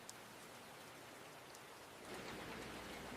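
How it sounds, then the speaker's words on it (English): Heavy rain pours steadily outside a warm cafe, a dense continuous hiss of drops that swells louder partway through, with no voices. "Outside, the rain is still pouring heavily."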